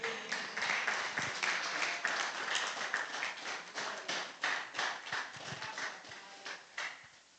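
A church congregation breaks into sustained applause, a dense wash of many hands clapping that swells and fades in uneven waves for several seconds with no voices over it.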